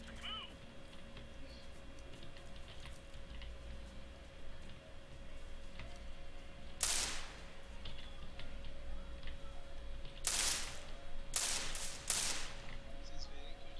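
Gunshots from the video game Counter-Strike: Global Offensive, with a single sharp crack followed later by a quick cluster of three more, fairly faint over a low steady hum and quiet background.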